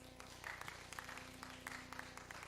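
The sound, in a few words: applause from church congregation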